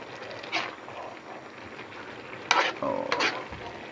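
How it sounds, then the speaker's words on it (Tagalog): A spoon stirs fish stew simmering in coconut milk with malunggay leaves, giving soft bubbling throughout and a few brief louder scrapes and clanks near the end. "So halo-haloin lang natin."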